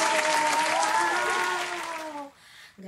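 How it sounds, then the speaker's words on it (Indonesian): A burst of applause with cheering voices at an online children's church service, loud and dense clapping for about two seconds before quickly fading out. "kasih tepuk tangannya dong"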